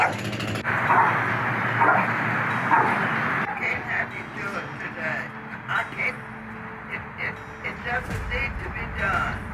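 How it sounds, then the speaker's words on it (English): A dog at a customer's house barks and yips repeatedly in short irregular bursts, some whimpering, moderately close, mixed with people talking and outdoor background noise. "We got a dog here that is supposedly is a biter"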